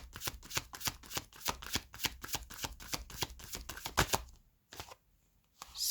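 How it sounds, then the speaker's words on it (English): A deck of tarot cards being riffled and shuffled by hand in a quiet room, with a steady run of rapid crisp card slaps for about four seconds, then brief pauses and a final short flutter. "So I'm going to pull some tarot cards in order to confirm these energies."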